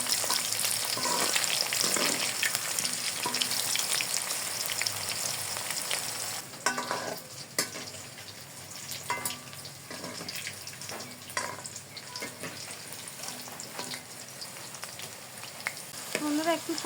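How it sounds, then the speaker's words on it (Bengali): Okra pakoras fry in hot oil in a kadai, a constant crackling sizzle with occasional scraping and clinking as they are turned, close and alone. "একটু সময় নিয়ে ভাজতে হবে, নাহলে কিন্তু যেমন মুচমুচে হবে না, তেমনি ঢেঁড়সগুলো ভালো করে ভাজাও হবে না।"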